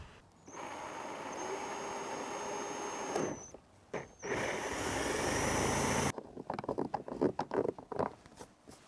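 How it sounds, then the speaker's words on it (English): A power drill whines steadily while boring a hole in plastic, briefly stopping and restarting, then gives way to clattering, scraping handling noises. "All right, let's drill a hole."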